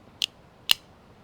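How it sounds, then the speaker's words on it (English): Two sharp, crisp snaps about half a second apart come from a haptic coin fidget toy, close and clear against near silence. "also has a nice snapping sound to it"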